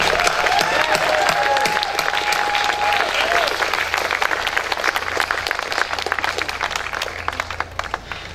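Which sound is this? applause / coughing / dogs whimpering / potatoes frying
applause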